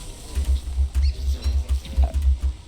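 Trees are chopped down in the video game Don't Starve, a quick run of soft, regular thudding chops repeating in close succession with no talk.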